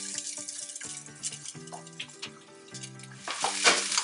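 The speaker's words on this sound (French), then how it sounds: "J'ajoute mes oignons." Chopped onions sizzle steadily in hot oil in a pan, a continuous close hiss that swells near the end, with tonal background music running underneath.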